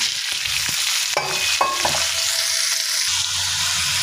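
Bottle gourd pieces fry in oil with turmeric, giving a loud, continuous sizzle with brief stirring scrapes and clinks near the pan.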